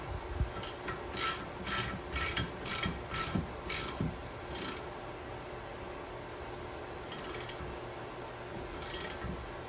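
Socket ratchet tightening a fitting on a Sea-Doo intercooler install: a series of quick, crisp clicking ratchet strokes in several bursts, close but fairly quiet over low background noise.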